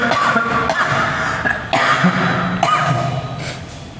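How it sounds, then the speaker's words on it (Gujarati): A man coughs in a few rough, throaty bursts close to the microphone, with short gaps between them and nothing else heard. "થોડીક ઉધરસ થઈ ગઈ છે."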